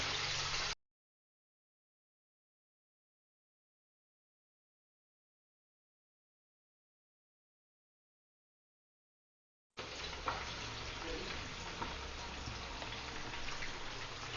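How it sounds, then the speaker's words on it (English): Fish pieces fry in very hot refined oil for a mustard fish curry. A brief burst of sizzle cuts to silence, then returns as a steady, dense crackling hiss, close and moderately loud, with no talking. "Now add fish pieces to this"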